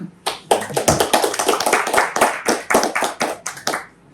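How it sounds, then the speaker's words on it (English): An audience claps at the end of a conference talk on microservices security, with a run of distinct, fairly close handclaps at a brisk, uneven rhythm, steady and loud throughout. "You could applause now."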